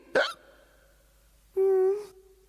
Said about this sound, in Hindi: अगर किसी को हिचकी परेशान करे तो उसे अचानक पीछे से डरा देने से उसकी हिचकी ठीक हो जाती है